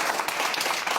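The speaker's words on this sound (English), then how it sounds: "Oh, you get a round of applause now." A debate audience breaks into applause, a brief dense patter of many hands clapping together at close range.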